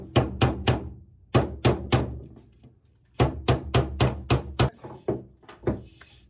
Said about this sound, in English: grab that hammer? All of these just need to get tacked down